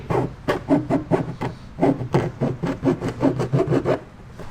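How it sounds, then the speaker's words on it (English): A round file rasps back and forth over plastic in quick, steady strokes, close by and with no voices, clearing drill debris from a hole for a reverse sensor on a 2008 Toyota Corolla. "you want to use a round-edged file"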